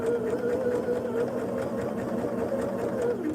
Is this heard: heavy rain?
no